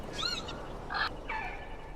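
Small cartoonish bird calls from the video game Broken Age, after a little bird hatches: three short chirping squawks in quick succession, fairly quiet and unaccompanied.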